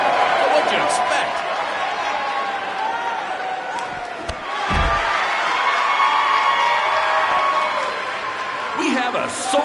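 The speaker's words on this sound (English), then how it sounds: "We have a sold-out, record-setting crowd here for BCW tonight." A sold-out arena crowd in the WWE 2K19 video game roars and cheers continuously, loud and close, with brief thuds and shouts mixed in.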